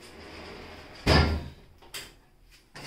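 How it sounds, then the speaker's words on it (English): A sliding door on a table saw unit is pushed open, giving a loud scraping thud followed by lighter knocks and rattles as it settles, heard alone. "just slide this door out of the way"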